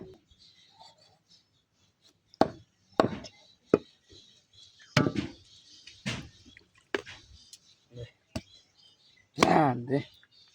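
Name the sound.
chopping a chicken with a knife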